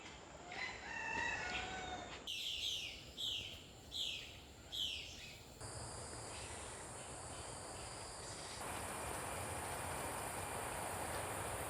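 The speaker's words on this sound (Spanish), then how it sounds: "Solo se escuchan a los pajaritos, los insectos, el ruido de las hojas que caen o que chocan con otros árboles." Amazon rainforest in Ecuador, where repeated bird calls ring out over a constant shrill chorus of insects, fairly faint and distant, with no talking.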